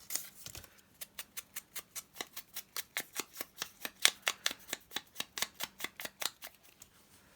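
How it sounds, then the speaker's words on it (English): Scissors cutting paper into two pieces for a handmade journal cover, a run of about twenty-five crisp, regular snips close by in a quiet room. "I'm going to cut them into 2 pieces."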